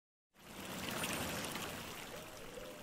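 The Banco river flowing through dense forest, a steady broadband rush of running water that starts abruptly and continues evenly, moderately distant and unbroken.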